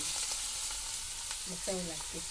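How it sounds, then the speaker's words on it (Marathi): Onion frying in oil in a pan, a faint, steady sizzle with soft stirring, quiet and continuous with a brief low voice near the end. "आता हे बऱ्यापैकी परतून घेऊया थोडा वेळ भाजायला पाहिजे"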